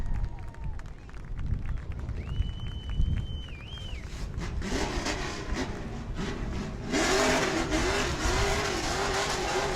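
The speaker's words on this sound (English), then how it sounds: "And Lassard going to do a little victory burnout for you" A Pro Truck race truck roars through a victory burnout at New Smyrna Speedway, its engine revving and screaming loudly and continuously over crowd noise, with a distant announcer's voice heard early on.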